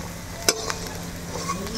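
Cashews and raisins frying in oil, a low continuous sizzle broken by a sharp utensil tap and a couple of light stirring scrapes.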